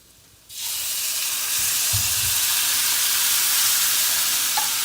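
Sauce poured into a pan of cooked meatballs sets off a sudden loud sizzle that quickly swells into a steady, close frying hiss lasting to the end, with no talking.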